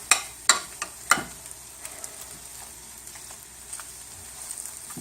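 Wild red prawns sauteing in oil in a pan give a steady, soft sizzle throughout, with a few sharp clicks and taps near the start from stirring, close and fairly quiet.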